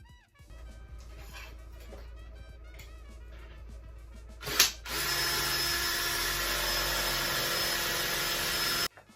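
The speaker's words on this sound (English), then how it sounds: "I've just drilled the hole in the tang." A power drill whirs in uneven bursts drilling a hole in the steel tang of a Bowie knife, then a sharp clunk gives way to a loud, steady grinding drone that stops abruptly.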